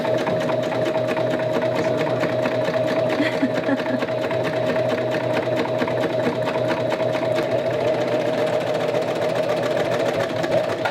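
A sewing machine stitches a winter hat, running in a steady, continuous whir with a constant motor hum and rapid needle clatter throughout, fairly close.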